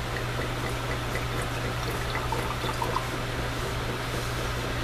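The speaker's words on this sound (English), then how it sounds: "And here comes the wine." Wine poured from a freshly uncorked bottle into a mason jar, a steady close trickling stream that runs unbroken for several seconds.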